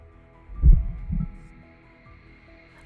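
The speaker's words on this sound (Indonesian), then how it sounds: "terdengar bunyi detak jantung" Heartbeat sound effect from the action film Crank: two deep, low thumps in close succession, loud and near, then a faint hum trailing off with no talking.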